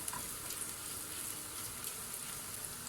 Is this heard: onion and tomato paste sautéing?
yes